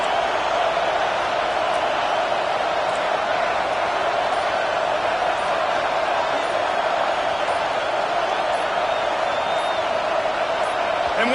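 A stadium crowd roars at a Washington vs USC college football game. The roar is loud, steady and unbroken, with no break in it.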